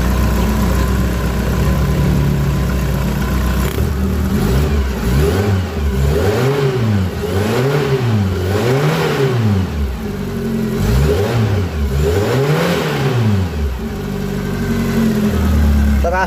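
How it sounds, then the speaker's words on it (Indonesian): A Suzuki Carry 1.0 fuel-injected engine is revved repeatedly from idle, each rise and fall of throttle sweeping up and back down in a series of loud, close blips before settling to idle. "Ini coba kita gas, apakah tenaganya sudah ada atau belum lur."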